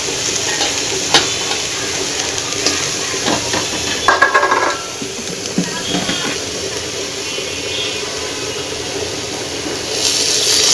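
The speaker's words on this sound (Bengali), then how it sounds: "জল দিয়ে দিলাম।" Water is poured into a pot of gourd and shrimp curry cooking on the stove, a steady wet splashing and sizzling hiss with stirring clinks that swells partway through and again near the end.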